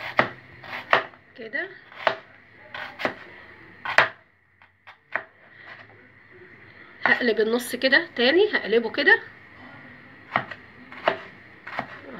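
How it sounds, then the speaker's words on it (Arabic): A kitchen knife slices half an onion into thin strips for Egyptian koshari, giving a quick run of close, crisp chops on a board in bursts, with someone talking between and over them. "اول حاجه اهو ادي نص البصله معايا، هبتدي كده شرايح رفيعه"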